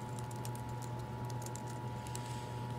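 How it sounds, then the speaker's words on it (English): Quick, light keystrokes on a computer keyboard tap in short irregular bursts over a steady electrical hum, close and fairly quiet, with no talking. "type in your name and your class"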